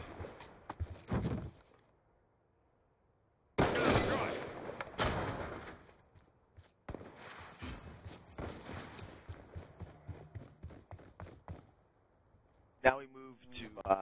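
Bursts of diamond-camo weapon gunfire in a shooter video game, separated by quiet gaps, with rapid automatic volleys and single shots at moderate loudness, followed by a short tonal game effect near the end.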